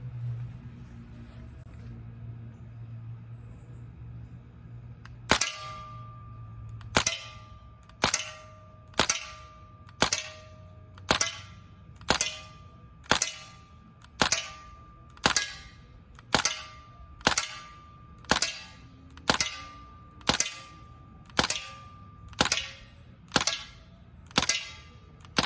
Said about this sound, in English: we're going to put some shots on the target, and I want you guys to just pay attention to how I hold it and how I shoot this AR.